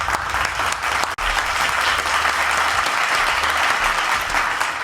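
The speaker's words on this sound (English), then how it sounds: "Round of applause for us." An audience applauds steadily and loudly at a talk show, the clapping dense and sustained with one brief break partway through.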